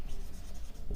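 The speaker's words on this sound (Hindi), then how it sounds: "तो लिखेंगे यहाँ पर" Chalk or marker scratching briefly across a board during a physics lesson, a quick close stroke with no talking.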